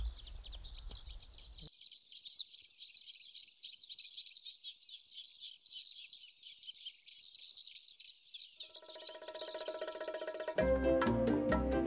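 Bird calling overhead at a nature and bird festival in France, a continuous high, rapid twittering song that runs throughout, joined near the end by tonal music and low thumps.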